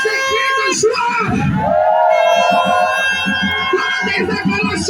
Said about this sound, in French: Pour tes cris de joie